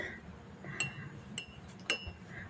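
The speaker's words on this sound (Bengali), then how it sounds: "চামচ দিয়ে চা খাচ্ছে" A spoon clinks against a cup of tea three times, with light, sharp, well-spaced taps over a quiet indoor background.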